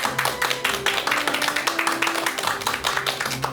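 An audience at a talk-show lecture welcoming a professor of medicine with steady applause: many hands clapping in a dense, rhythmic patter with a faint voice or hum beneath it.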